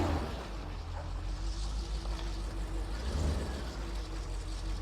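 An abandoned, long-standing BMW Alpina B10 V8 runs with a steady, deep engine rumble at close range, swelling slightly now and then, with no speech.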